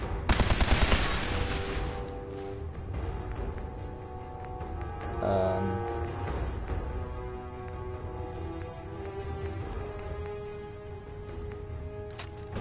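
Rapid bursts of pipe pistol gunfire in the Fallout 4 video game, dense and loud at the start, then continuing as scattered shots over game music and ambience, with no one talking.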